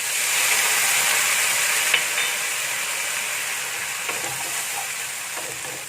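Steady, close sizzling and hissing fills a wok as water is added to stir-fried green beans, dried shrimp and scrambled egg, a dense frying roar with faint stirring clicks and no talk.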